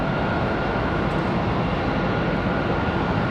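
A jet airplane taxiing at Charlotte Douglas International Airport, a steady broadband engine rumble and whine heard at a distance, continuous and even throughout with no voices.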